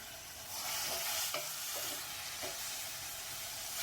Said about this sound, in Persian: 10 دقیقه با شعله کم تفت میدیم تا کاملا بپزه.